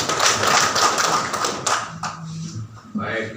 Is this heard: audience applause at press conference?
yes